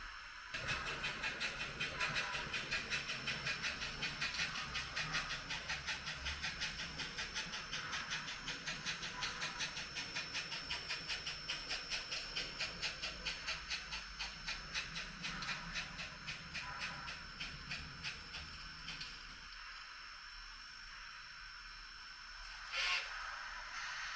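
An HO scale model passenger train with rhythmic wheel clicking and a faint mechanical hum rolls for about twenty seconds, then stops and goes quiet, leaving a soft hiss and one brief knock.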